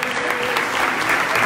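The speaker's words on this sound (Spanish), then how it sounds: "Denle otro aplauso al Espíritu Santo." A church congregation at a revival service claps in a dense, steady wash of applause, filling the space evenly from start to finish with no breaks.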